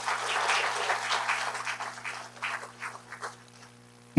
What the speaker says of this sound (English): round of applause anyway, if they're here or not